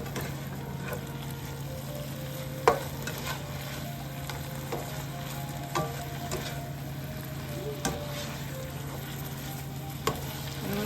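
Chicken fajita meat frying in a pan, a steady low sizzle with a faint hum beneath and a few sharp utensil clicks and scrapes spaced several seconds apart as the meat is turned, quiet and close.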